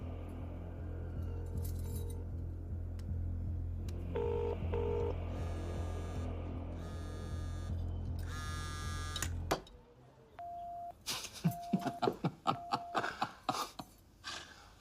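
A telephone is dialed on speakerphone during a scene in a Hindi romantic action film: a string of short dual-tone keypad beeps over a low steady hum, then a pause and a run of evenly spaced ringing tones with a few clicks.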